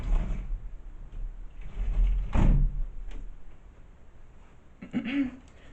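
An indoor door pushed shut on a house, a dull thud around the middle after some shuffling movement, followed by a second muffled knock near the end, with faint room noise throughout.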